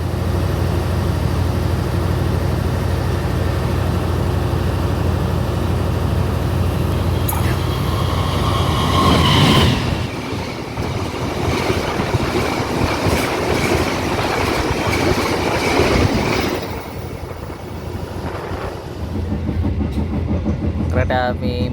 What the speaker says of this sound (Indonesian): Kereta api Moti Selatan sudah berangkat kembali dari stasiun Lebeng